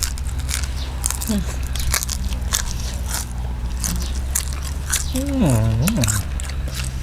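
Crunchy bites into deep-fried giant water bugs eaten with papaya salad, a few crisp crackling bites under steady background noise, with someone talking and humming through the chewing.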